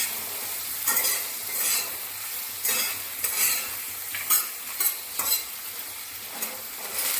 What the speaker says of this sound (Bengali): টমেটোটাও একটু নরম হওয়ার জন্য একটু নেড়ে চেড়ে নেবে